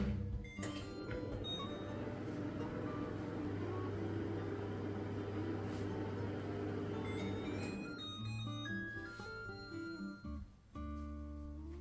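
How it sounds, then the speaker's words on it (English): A microwave oven runs with a steady hum while keto English muffins heat inside, then stops near the end, followed by a short beep and faint clatter. "So let's get that into the microwave and see how this one goes."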